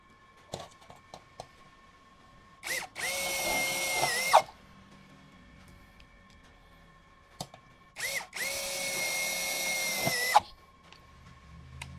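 A DongCheng DCJZ2060i cordless impact drill bores into lightweight steel roofing, two loud sustained whirring runs of about two seconds each, separated by a pause with faint clicks and handling noise.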